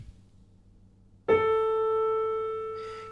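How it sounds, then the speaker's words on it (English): A single Steinway piano note in the middle register is struck once after near silence, ringing clearly and decaying slowly, close and alone. "let's play a note in the middle register."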